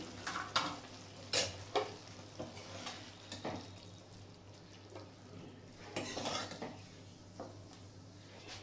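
A cooked morola fish dish is taken off a gas stove: a few sharp clanks of a pan and a utensil scrape over a faint sizzle in a quiet kitchen, with no talking.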